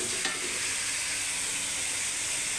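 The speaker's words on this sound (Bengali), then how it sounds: "মাছ রান্না করতেছি টমেটো দিয়ে" Boal fish cooking with tomato in a pan, a steady loud sizzle and frying hiss throughout, close up, with no talking.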